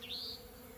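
Bees hum around tall honeycomb-shaped towers near jungle trees, a faint, brief buzzing drone that swells briefly and then settles, with no talking.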